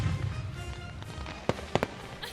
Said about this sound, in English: a giant fireworks salute